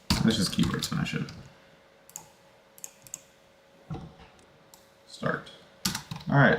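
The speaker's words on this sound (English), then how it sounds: "let's just keyboard smash it" A computer keyboard is mashed in quick bursts, clusters of rapid clacking keystrokes separated by pauses, close and fairly loud, with someone speaking briefly around them.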